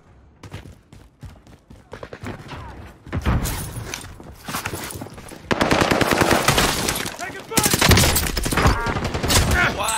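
Video game gunfire builds from sparse rapid shots into long, loud, sustained automatic bursts, with the volume rising in stages through the clip.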